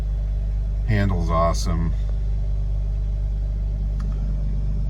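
Old car engine idling with a steady low rumble, while someone speaks briefly near the start over it.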